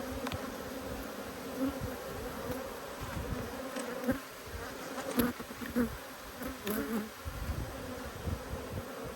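Agitated honeybees swarm around an opened hive during an inspection, a dense steady buzz with individual bees zipping close past the microphone, no talk.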